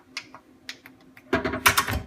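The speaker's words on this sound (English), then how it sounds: "You'll still hear it unlock and it drop down a little bit." A few soft electronic clicks give way to a quick mechanical clatter and a solid thunk as the latch of a Gunvault SVB500 gun safe releases and its lid drops slightly.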